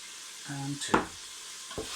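Meat frying and being stirred in a pot while cooking jollof rice, a soft sizzle with a brief scraping stir and a clink, close and fairly quiet.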